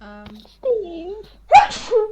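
A single short, sharp sneeze bursts out among voices talking during a Dungeons & Dragons tabletop game session.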